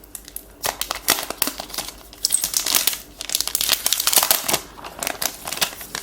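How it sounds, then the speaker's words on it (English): Protective plastic film peeled off a new Nokia Lumia 1520 phone, close crinkling and crackling with bursts of tearing and rustling, irregular and continuous throughout, no voices. "So let's remove the plastic."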